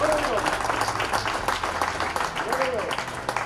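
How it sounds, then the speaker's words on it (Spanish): Worshippers in a church congregation applaud together, a close, steady clatter of clapping with a voice rising over it and cheers blending in. "Denle un aplauso al Señor con todo su corazón"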